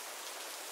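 Steady rain falls in a dense, even hiss, heard alone with no voices over the brief moment.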